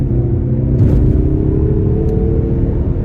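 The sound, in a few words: Mazda3 turbo engine accelerating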